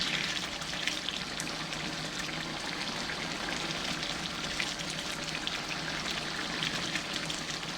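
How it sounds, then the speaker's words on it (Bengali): A thickening butt karahi gravy sizzles in a pan under constant stirring, making a dense, loud, steady bubbling and frying hiss that carries on unbroken with no talk. "আমি কিন্তু নেড়েই যাচ্ছি।"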